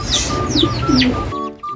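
Pigeons coo softly in a low, rolling murmur while small birds chirp and tweet overhead, a busy close-up flock sound with no talking.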